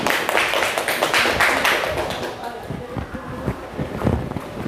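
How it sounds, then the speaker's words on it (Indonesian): Applause for a speaker at a school gathering, a dense wash of clapping hands filling the room for a few seconds, fairly loud and steady before gradually thinning out, with some voices mixed underneath. "Beri tepuk tangan untuk Ustazah Alifah."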